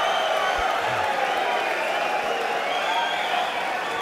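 A pool crowd at the 2016 Mosconi Cup cheers and applauds a shot, a loud, steady roar of clapping and voices sustained throughout without break.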